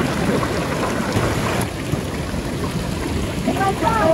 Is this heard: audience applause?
no